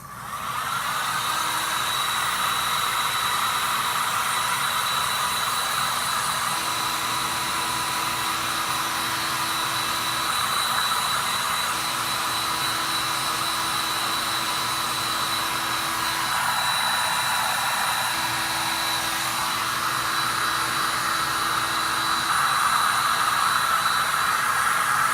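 A hair dryer blows steadily and loudly to dry dry-brushed painted Christmas craft pieces, a constant close whooshing hiss with a low motor hum that runs unbroken for the whole stretch.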